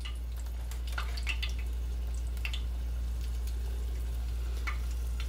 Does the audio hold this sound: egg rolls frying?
yes